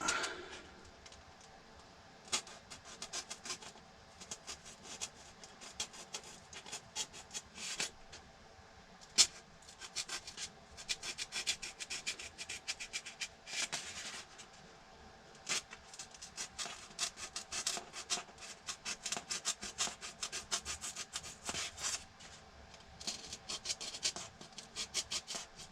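Foam being cut by hand to form a model aircraft wing, a steady rubbing, rasping scrape that repeats in uneven strokes at close range for the whole stretch, with no talking.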